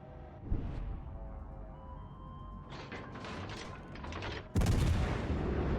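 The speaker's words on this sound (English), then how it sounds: "Incoming fire from the enemy Riga." Naval gunfire from an enemy Riga cruiser in World of Warships Legends, heard as a deep low boom followed by a loud, sustained broadband rumble of heavy shells arriving near the end.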